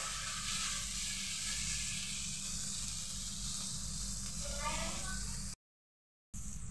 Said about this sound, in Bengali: ভাজাটা সুন্দরভাবে হচ্ছে।